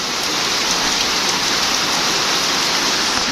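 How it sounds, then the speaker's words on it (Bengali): Heavy rain pours down under dark skies in Faridpur district, Bangladesh, a loud, dense, constant roar of falling water with no pauses or voices. "এখন প্রচণ্ড পরিমাণ বৃষ্টি হচ্ছে আপনাদের দেখাচ্ছি"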